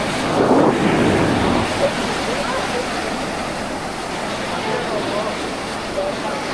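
Sea wind and waves at a beach in Colombo, Sri Lanka: a loud, steady roar of wind buffeting the microphone blends with a broad wash of surf throughout.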